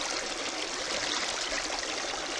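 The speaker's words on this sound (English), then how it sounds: "Here's where I set up the sluice. So it seems to be running right now." Water rushing steadily through a gold prospecting sluice on Slab Hut Creek in New Zealand, a continuous close hiss and trickle of flowing water with no voices.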